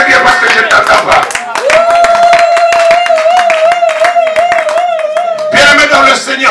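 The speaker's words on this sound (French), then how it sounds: "Acclame ton Dieu bien parce que je t'entends pas." A church congregation claps loud and fast in steady rhythm, with a long held vocal cry ringing through the middle and voices shouting over the clapping.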